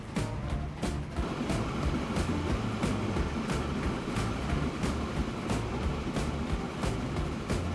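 A freight train carrying stone in Transport Fever rolls along with a steady low rumble and a regular rhythm of clacking wheels, constant and fairly close, with no talking.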